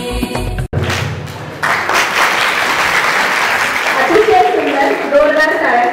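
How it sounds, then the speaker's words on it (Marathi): Loud, sustained applause from an audience at a Bharatanatyam classical dance performance, following a sung Mahishasuramardini verse, with a dense clapping texture and some melodic music or voices rising over it toward the end. "जोरदार टाळ्या"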